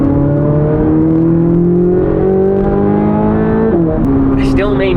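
A Chevrolet Corvette C8 launches hard, its engine note climbing steadily in pitch through a gear, close and loud, with a brief shift dip and a high whine near the end.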